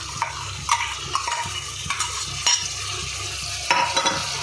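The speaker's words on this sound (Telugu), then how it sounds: "మనం ముందుగా పేస్ట్ చేసి ఉంచుకున్న ఉల్లిపాయ అల్లం పేస్ట్ని ఇప్పుడు వేసుకుందాం." Onion and ginger paste frying in oil with goat trotters, stirred briskly in a pan, with rhythmic scraping and clinking strokes over a steady close sizzle.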